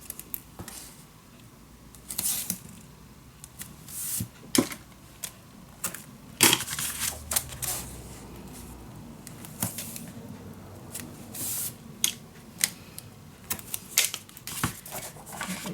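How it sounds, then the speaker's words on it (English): Tape is pulled from a roll and pressed onto a paper mini album, giving scattered sharp rips and crackly clicks at irregular intervals, fairly close and without speech. "Alright, let's add some tape on here."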